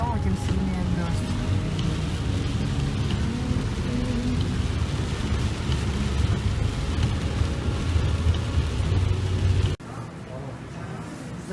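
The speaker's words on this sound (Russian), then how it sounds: "Чем ближе к дому, тем сильнее дождь." Heavy rain pouring while driving near home in Turkey, a dense steady wash of downpour and rumble inside a moving car that continues throughout, dropping abruptly in level near the end.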